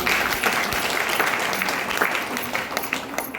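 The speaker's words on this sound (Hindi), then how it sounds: "जोरदार ताली।" Audience at a youth training seminar breaking into loud, dense applause that stays strong and steady throughout, filling the hall with crowd clapping.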